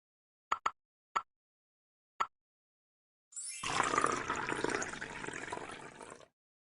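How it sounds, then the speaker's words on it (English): Vinegar tinted with food coloring pours into a clay model volcano and reacts, giving a steady fizzing, bubbling rush for about three seconds after a few short clicks, with no voices. "See the volcano erupting lava."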